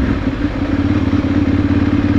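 A motorcycle's exhaust rumbles close up, a loud, steady low pulsing throb with a regular beat, with no talking over it.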